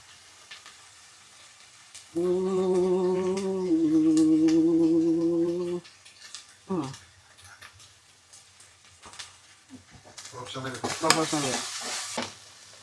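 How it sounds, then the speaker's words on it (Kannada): Ginger and garlic stirred in a frying pan, a soft sizzle under quick spatula scrapes and taps, with a sustained tonal hum in the middle and short spoken bits in between. "ಸ್ವಲ್ಪ ಜಾಸ್ತಿ ginger and garlic, mix it up"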